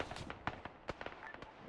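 Shots fired at radar contacts in a hardcore military simulation game set in Germany, Germany versus Russia, heard as several sharp, fairly faint pops and bursts at irregular intervals.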